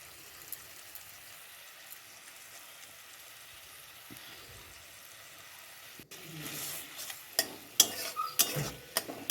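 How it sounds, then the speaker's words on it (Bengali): Ginger and green chili paste with turmeric fries in a pan for a Bengali fish curry, quiet at first, then soft sizzling and several sharp scrapes and clinks of a spatula stirring. "এটার মধ্যে আদা বাটা আছে আর কাঁচা লঙ্কা বাটা আছে এটাকে অল্প করে ভেজে নেবো একদম সামান্য"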